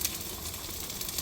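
Pasta water boils and sizzles in a wok-shaped magma plate, a steady broadband hiss with faint crackle running unbroken and fairly close throughout.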